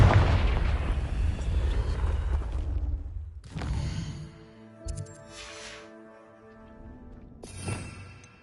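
A Confringo blasting spell explodes in Hogwarts Legacy, a loud roaring blast that rumbles for several seconds, then cuts off. Shorter booms and ringing, tonal magical effects follow, with a final burst near the end.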